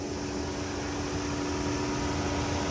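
The 2.5-liter turbo four in a 2024 Hyundai Santa Fe Calligraphy runs at a steady, smooth idle, a constant mid-level hum with a faint tonal whine, heard alone without talk.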